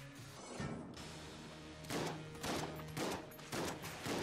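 Rapid bursts of gunfire from the video game Enter the Gungeon, several sharp volleys repeating about every half second over a dense, steady game soundtrack.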